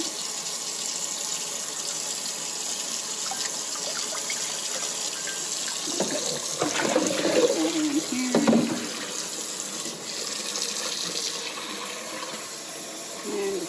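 Cool tap water runs steadily into a sink as Kool-Aid dyed yarn is rinsed under it, a constant close hiss broken midway by splashing and sloshing as the wet yarn is handled.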